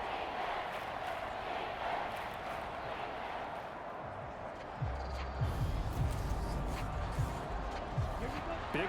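Stadium crowd in an NFL video game, a Monday night matchup between the New York Giants and Washington, roaring steadily as a dense wash of cheering that swells louder toward the end, with heavy low thumps and commentary over it.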